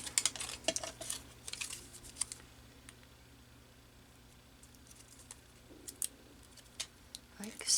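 Backing is split and peeled off a sheet of paper, then the paper is crumpled for distressing, giving faint crinkly crackles and scattered ticks over a low steady hum, busiest at the start and again near the end.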